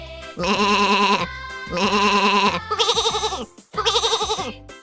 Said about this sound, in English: Here's a soft and fluffy sheep. Sheep says, Baa Baa.